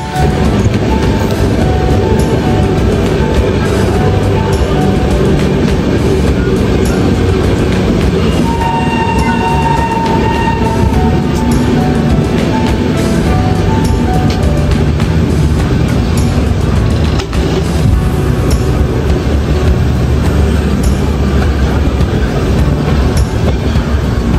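A train pulling into Sasaram Junction railway station, steady loud rumble of wheels and carriages throughout with a faint squeal or horn tone midway, continuous with no talk.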